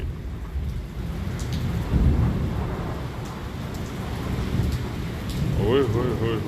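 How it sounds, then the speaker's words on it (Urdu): Heavy thunderstorm over Islamabad with hail, steady dense rain and rolling thunder crashes; a voice exclaims faintly beneath the downpour. "یہ دیکھیں یہ آسمانی بجلی پڑی ہے جی"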